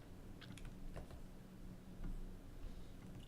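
Faint clicks of a computer keyboard as the command key and a letter key are pressed, a few soft isolated taps over a low steady background hum.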